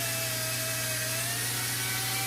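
A power drill spins a wooden piece wrapped in sandpaper in a woodworking shop, giving a steady, loud motor whine with a constant pitch and a light sanding hiss, running alone throughout.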